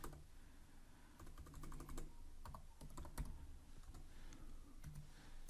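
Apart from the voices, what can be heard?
typing code on a computer keyboard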